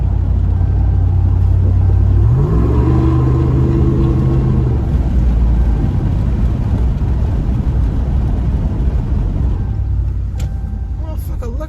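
Exhaust of a 2017 RAM 2500 Big Horn pickup with the muffler deleted, a loud, deep rumble that climbs in pitch as it accelerates around two seconds in, then settles into a steady drone, with talking inside the cab.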